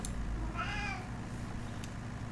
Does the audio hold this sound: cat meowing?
yes